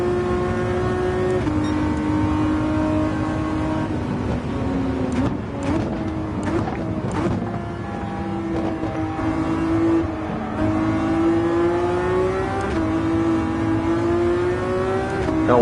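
A Ferrari VGT race car engine in Gran Turismo 7 droning at high revs with rising and falling pitch through gear changes, steady and fairly loud, with brief overlapping whooshes of other cars passing.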